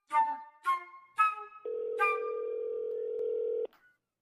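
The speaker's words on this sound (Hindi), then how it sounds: "रुक का फोन लगाई डॉक्टर ले।" Three short telephone keypad tones are pressed in quick succession while calling a doctor, then a fourth tone blends into a long steady dial or ringback tone that holds for about two seconds before cutting off.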